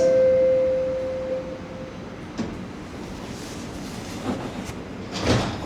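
A Toronto subway train at a Line 4 station closes its doors after a steady tone fades, with sliding clunks and thuds from the doors over a hum of rail and platform noise.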